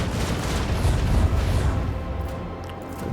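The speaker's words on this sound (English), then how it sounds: "Port side cannon them." Port-side ship cannons fire in the Rogue Trader video game, producing a dense, rumbling barrage of heavy booms that swells and then slowly fades over a few seconds.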